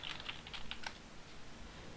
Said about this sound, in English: You can probably hear me typing as well. My keyboard is kind of loud